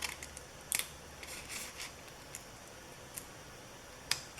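Scissors snipping paper for a small craft cutout, a few faint, sharp clicks spaced irregularly over a quiet room background.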